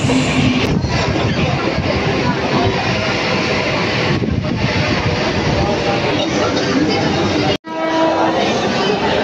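A Churchgate slow local train pulls into Dadar station in Mumbai with a loud, continuous rumble and clatter of carriages that fills the platform, broken by a brief sharp drop near the end.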